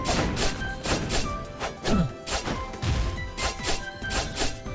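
Objects smashed in the action platformer Skul, a busy stream of crashing, shattering and thudding game effects with quick whooshes, dense and continuous throughout.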